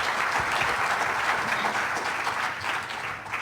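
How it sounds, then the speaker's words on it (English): An audience gives a presenter a big round of applause after a brain-computer interface drone demo, the clapping loud, dense and continuous throughout. "give Chris a big round of applause first"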